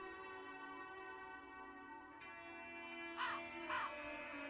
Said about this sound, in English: Please, whoever you are, help me chase away these damn birds.